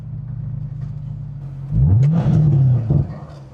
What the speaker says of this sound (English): Start revving.